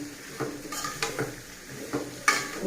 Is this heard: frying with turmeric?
yes